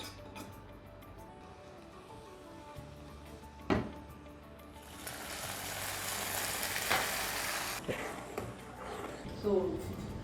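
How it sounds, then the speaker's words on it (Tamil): Steady sizzle of cashews and raisins frying in ghee in a pan, rising louder midway, with a sharp clatter and occasional stirring scrapes nearby. "நம்ம வந்து முந்திரி பருப்பெல்லாம் வறுத்து போட்டாச்சுன்னா"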